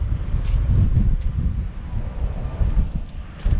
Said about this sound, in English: it's a bit windy as well. It's gusting today, up to 20 odd mile an hour gusts.